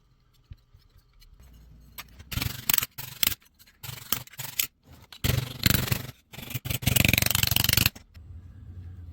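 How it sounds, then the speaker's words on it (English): Half-inch copper tubing cut into strips with hand snips: irregular bursts of crisp snipping and scraping metal, close and moderately loud, separated by short pauses. "I'm just going to cut this 1/2 inch copper tubing down the side, open it up flat, and then cut some strips"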